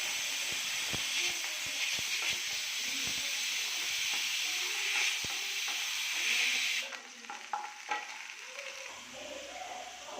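Garlic fries with a steady hiss and sizzle in a pan while a spoon stirs and taps against it; the sizzle drops off abruptly near the end, leaving quieter scattered scraping.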